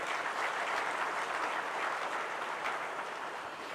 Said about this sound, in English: If you could just give it a round of applause,